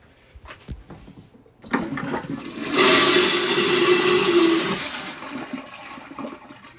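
A newly installed toilet at a flat flushes loudly and close by, a brief clunk of the handle followed by a sustained rushing gush of water lasting a few seconds before draining off and fading.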